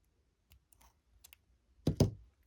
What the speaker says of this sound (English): And then what I'll do is I'll cut that excess.